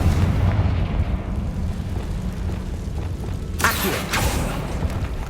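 A Confringo fire spell in Hogwarts Legacy bursts with a couple of sharp blasts near the end, over a steady low rumbling game backdrop.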